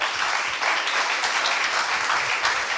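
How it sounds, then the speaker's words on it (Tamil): An audience claps after a speech, giving steady, dense applause from many hands that holds throughout. "நாம் ஒரு கரகோஷம் செலுத்துவோம்."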